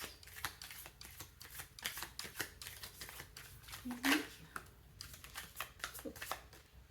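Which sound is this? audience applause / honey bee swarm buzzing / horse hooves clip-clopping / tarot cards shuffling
tarot cards shuffling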